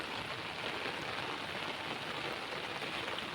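Steady torrential monsoon rain hissing evenly without a break over a farm field, a dense wash of falling water that stays constant in level throughout.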